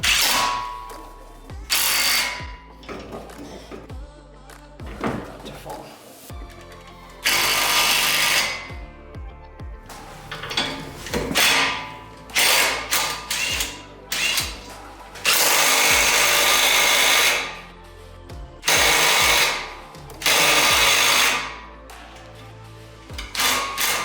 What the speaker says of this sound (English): just use the impact gun to tighten it and see if it pulls through